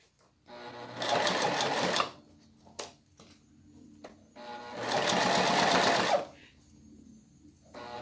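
A domestic sewing machine stitches a plastic bag in two sustained whirring runs of about a second and a half each, separated by brief pauses with small mechanical clicks, close and fairly loud.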